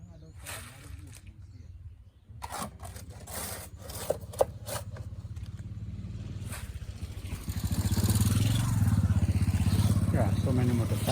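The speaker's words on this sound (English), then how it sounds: "so many motorcycles in the village. This is the mode of transport here in the village." Motorcycles pass on a road in a Kenyan village, their engines rumbling nearby and growing louder toward the end, with people talking over the sound.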